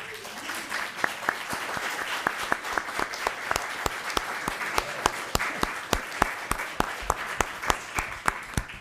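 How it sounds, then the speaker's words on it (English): An audience at a city council meeting applauds, steady dense clapping from many hands with sharp individual claps standing out nearby, continuing without a break. "I'd love to have everybody that showed up tonight in support of Spirit Horse stand up and clap."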